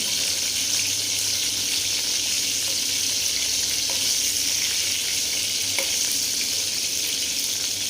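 Stuffed bitter gourd fries in a kadhai-style wok with a constant, close, dense sizzle and a few faint clinks, with no talking.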